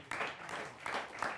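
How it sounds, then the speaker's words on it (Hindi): An audience at a Hindi poetry gathering claps in a brief, faint burst of scattered applause. "समर्थन हो तो लाइन पे ताली बजा के मुझे आदेशित करें"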